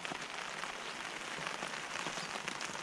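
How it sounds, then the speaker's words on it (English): Heavy rain pours down at a backcountry campsite in Northern Ontario, a dense, steady patter drumming on nearby surfaces with no let-up and no voices. "It's raining pretty hard now."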